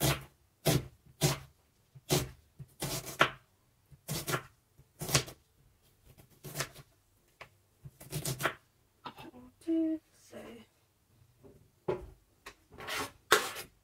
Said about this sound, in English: I'll just chop the garlic, and I'm chopping the onions.